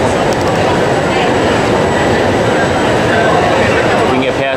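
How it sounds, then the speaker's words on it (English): Steady, loud rumble from inside a moving train between Florence and La Spezia, a continuous broadband roar with no breaks and no clear speech over it. "We're taking a train from Florence to La Spezia"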